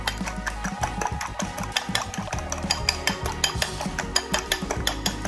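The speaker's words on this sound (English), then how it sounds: "Going to mix our 2 eggs." Two eggs beaten in a bowl, a rapid run of close metallic taps and scrapes keeping a steady, busy rhythm throughout, with no voices.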